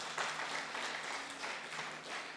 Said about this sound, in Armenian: Եկեք ծափարենք Տիրոջը։